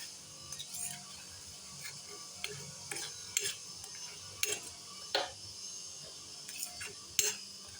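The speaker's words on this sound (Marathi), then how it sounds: "मी वेलची पावडर घातलेली आहे. आता ही देखील मिक्स करून घेऊया अशा प्रकारे." A spoon stirs cardamom powder into a coconut barfi mixture in a pan, giving faint, irregular metallic clinks and scrapes spaced a second or so apart over a quiet background.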